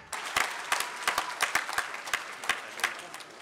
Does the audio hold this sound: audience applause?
yes